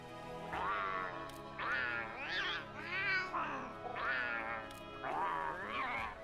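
A grumpy cat character voice from Monster Hunter World meows repeatedly in five or six drawn-out, whiny calls, loud and close, with short pauses between them and no talking.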